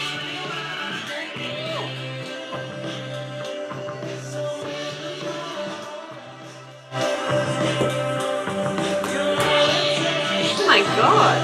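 Music plays through a DistraKted waterproof Bluetooth speaker at less than full volume: a punchy beat with heavy bass pulses that gets fuller and louder partway through, heard up close.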